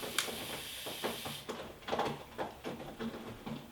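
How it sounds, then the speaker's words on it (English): A pet cat clawing at its scratching post indoors, giving a run of short, rough scraping bursts at an irregular rhythm, close by and fairly quiet, with no talking. "the other noise you hear is my cat scratching on his scratch thing"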